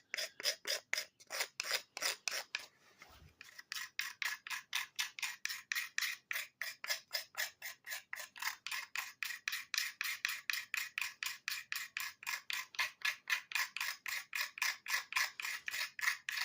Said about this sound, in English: if you've ever tried scraping with like a super steel knife or whatever